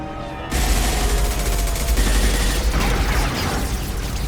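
Sudden onset of heavy sustained gunfire in a Mass Effect 2 firefight, a loud, dense wall of shots and impacts continuing steadily for several seconds.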